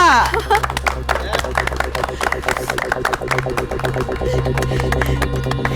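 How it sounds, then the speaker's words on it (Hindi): An audience applauds a tambola winner with steady clapping from a crowd, set against a loud, constant low hum and some background chatter. "तालियां।"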